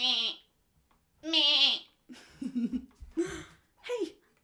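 A voice imitates a goat bleating in a children's music lesson, giving several nasal "meh" bleats with pauses between them, some breaking into quick wavering bursts.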